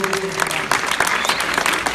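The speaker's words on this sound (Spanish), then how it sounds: "se realiza simbólicamente la entrega de un fuerte aplauso" A crowd at a school welfare event gives schoolgirls a dense, steady round of applause, with many hands clapping nearby throughout.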